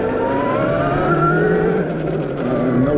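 A Velimotor VMX3000 electric enduro bike pulls away smoothly, its motor whine rising in pitch under a close, steady drive with no voices.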